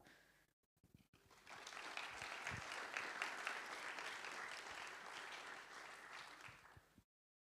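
A live audience at a city talks event breaks into applause to welcome a discussion panel, with many hands clapping in a sustained, fairly distant roar that swells and then fades out after about six seconds.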